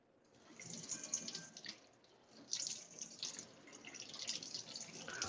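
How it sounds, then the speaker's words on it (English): Water running continuously through an egg peeling machine, a faint steady splashing and trickling with small spattering bursts. "So just like this, the water is continuously running through the machine."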